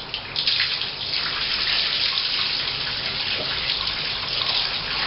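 Warm water runs steadily from a tap into a basin, a continuous close splashing hiss with no talking, while a large stuffed plush animal is being washed.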